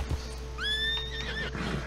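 A horse in Red Dead Online whinnies with a rising, wavering neigh over a low steady hum, a single call lasting about a second.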